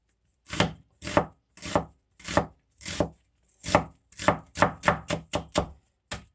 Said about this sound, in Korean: 이것을 다시 반대 방향으로 놓아준 다음에 다져주는 거예요.